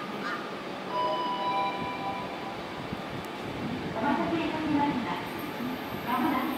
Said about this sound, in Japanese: 2番線に列車が到着いたします。